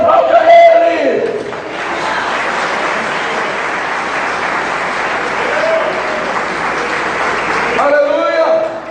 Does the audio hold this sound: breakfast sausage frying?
no